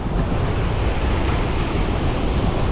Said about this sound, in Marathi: मोठमोठ्या अशा भयानक अशा सुंदर अशा लाटा पाहायला मिळतात